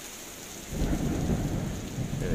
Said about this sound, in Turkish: Yoğun yağış devam ediyor.